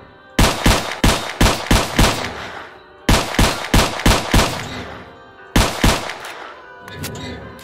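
Gunfire in the shooter game S.T.A.L.K.E.R. Clear Sky comes in three quick bursts of loud, close single shots in rapid rhythm, each cracking sharply with a short echo tail, with no voice over it.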